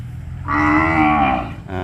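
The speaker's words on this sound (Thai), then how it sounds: "เจ็ดตัวเนี้ยนะครับเป็นวัวสาว แล้วก็วัวตัวผู้นะครับ" Young cattle, heifers and bullocks kept in a pen, with one loud, close moo lasting about a second, followed by a short low grunt.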